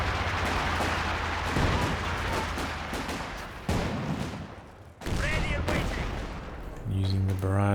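Artillery barrage and gunfire from the real-time strategy game Company of Heroes 2, a dense, continuous rumble of shell blasts and rattling shots, loud and close, with a sharp cut and a fresh volley near the end.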